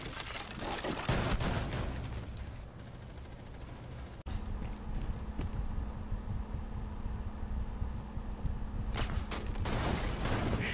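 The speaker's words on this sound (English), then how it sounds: "Shooting out the window." Gunfire rattles out through a window in Rainbow Six Siege, bursts of shots over a constant hum, with a sharp crack near the middle and a louder volley toward the end.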